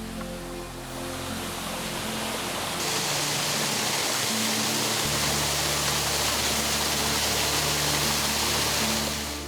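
Steady roar of a 33-foot Ozark waterfall in Arkansas, a broad continuous rush that holds evenly from start to finish.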